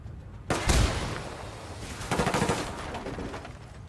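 Loud automatic gunfire in the video game Ghost Recon Wildlands, a sharp burst opening a sustained rattling volley that continues to the end, with no talking.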